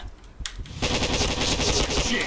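Rapid automatic gunfire from the first-person shooter Point Blank, a loud sustained burst that starts after a couple of brief shots and continues to the end.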